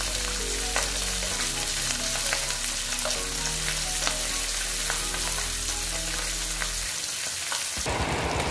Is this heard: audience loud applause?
no